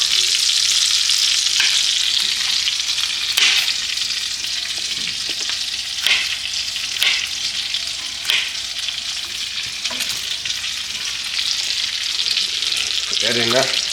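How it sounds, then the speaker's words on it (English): A New York strip steak sizzles loudly in a pan while being basted with thyme and garlic, a constant frying crackle broken by sharp spoon clinks and splashes of hot fat. "Bring that thyme over here on this side and baste it."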